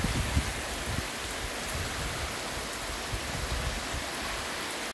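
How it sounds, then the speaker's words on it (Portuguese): Steady rain in the countryside near Cruzes, a broad continuous hiss with a light low patter, sounding close and even throughout with no talk. "como tá vindo a chuva ali, ó. Tá bonito para chover."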